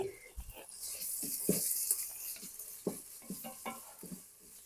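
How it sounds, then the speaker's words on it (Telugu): Onions fry in a pan for a chicken gravy curry, with a bright steady sizzle and intermittent scraping stirs and utensil knocks breaking through close by. "మంచిగా ఆనియన్స్ ఫ్రై అవుతున్నాయి"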